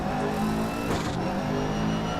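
An all-wheel drive rally car understeers in DiRT Rally 2.0, its engine droning steadily and loud, with a brief rasping surge of tyre scrub midway through a short stretch.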